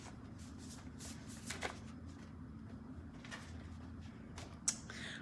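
A deck of prompt cards being shuffled by hand in a quiet room, a steady run of soft riffling bursts with a sharper card snap near the end, close and fairly faint, no talking.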